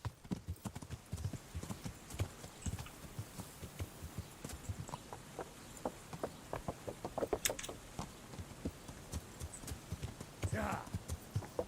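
Horse hooves clip-clopping steadily in the medieval video game Kingdom Come: Deliverance, a continuous rhythmic trot with a brief snort or whinny near the end, over faint background ambience.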